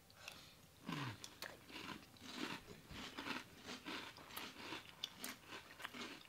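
Crunchy keto cereal being chewed up close, a run of crisp bites and crackly mastication in an uneven rhythm, soft and near with no talk over it.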